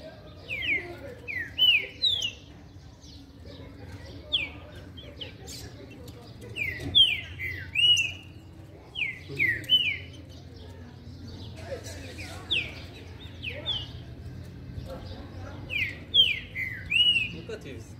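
Rufous-bellied thrush (trinca-ferro) sings in repeated clear whistled phrases at intervals, fairly close over a low background hum.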